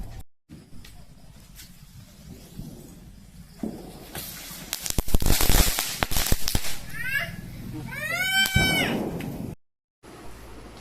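A quick cluster of sharp firecracker bangs bursting in succession on the eve of Vishu, followed by a wavering high call, amid faint outdoor background noise.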